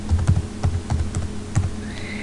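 Keys clatter on a computer keyboard as a query title is typed into a database program, a quick irregular run of close, moderately loud clicks with short pauses and no talking.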